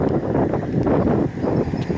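Steady wind gusting across an open spot at Duck Creek Quarry Park in Green Bay, a broad low rumbling roar that stays loud and continuous throughout, with no talk.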